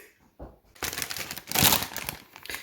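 Plastic wrapping of a gift package of sweets crinkles and rustles up close in uneven bursts, growing louder as the package is handled and pulled open.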